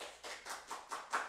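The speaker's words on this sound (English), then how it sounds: "Can we give a clap offering to the Lord?" A church congregation claps together during a Sunday service, a few loose bursts of hand claps swelling and fading in waves over a short moment, with no talking.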